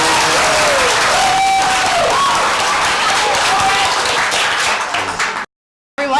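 A crowd applauds loudly and continuously, with cheers and whistles over the dense clapping, then it cuts off abruptly.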